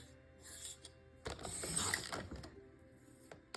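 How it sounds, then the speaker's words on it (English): A paper trimmer slices through scrapbook paper along a diagonal line, making a quiet mechanical slide and a brief rasping cut in the middle, with small clicks before and after. "we're cutting on that 45-degree line on your trimmer"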